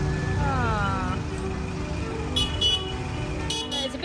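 A busy border checkpoint with trucks from India lined up nose to tail, engines rumbling in steady traffic noise while horns toot briefly and someone talks nearby.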